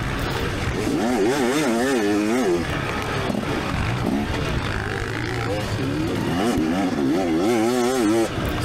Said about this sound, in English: Got a KTM two-stroke sneaking up.